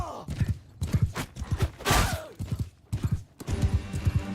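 Galloping horse hooves in Mount and Blade II: Bannerlord, a rapid rhythmic clip-clop that repeats in bursts across the whole stretch, fairly close and steady, with a brief louder rush in the middle.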